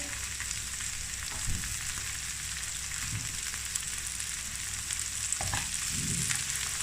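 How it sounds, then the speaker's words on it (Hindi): Capsicum and cabbage fry in a pan with a constant loud sizzle, broken by a few soft stirring scrapes, close up with no talking. "अब इन सारी चीज़ों को भी फ्राई करेंगे।"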